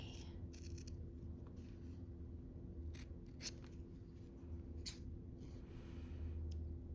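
Scissors trim the edges of a cross-stitch fabric piece, a series of soft, close snips spread at uneven intervals over a steady low background hum.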